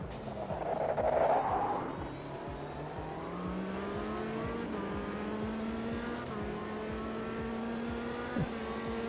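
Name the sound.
GT3 Porsche race car engine in Automobilista 2 video game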